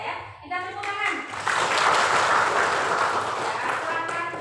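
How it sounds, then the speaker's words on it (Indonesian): A classroom of students applauds after a presentation on bullying, a dense, steady round of clapping that swells after a brief moment of voices and carries on to the end. "Kita tepuk tangan."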